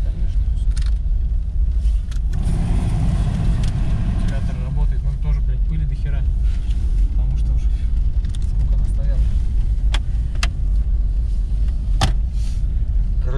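An old BMW SUV driving through a village, its engine and road rumble steady and close from inside the cabin throughout, with people talking over the drone.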